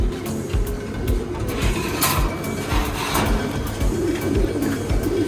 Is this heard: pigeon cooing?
yes